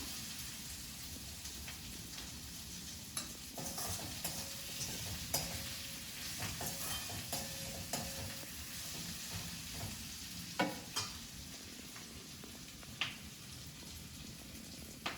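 Potatoes fry in a pan with a steady sizzle and crackle, with occasional stirring scrapes and clinks over a continuous hiss, close and moderate in level.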